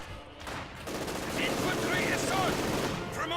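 Sustained machine gun fire rattles continuously through a Company of Heroes battle, dense and loud from start to finish with no break, layered over the game's wider battle noise.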